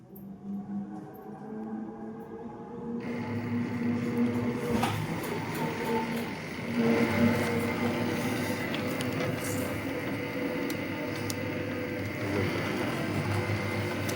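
An automatic coil winding machine runs steadily, laying wire layer by layer onto a small coil former, a continuous mechanical whir and hum that starts quieter and then holds a constant level throughout.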